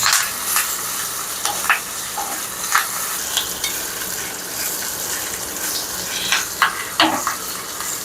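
Mustard seeds, urad dal, asafoetida and curry leaves tempering in hot oil crackle and sputter in quick irregular pops over a steady sizzle, with stirring scrapes nearby.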